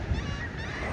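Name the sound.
flock of shorebirds calling on a beach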